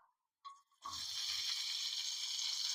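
Chopped onions dropped into a spoonful or two of hot oil, a brief clatter giving way to a loud, steady sizzle of frying that carries on alone.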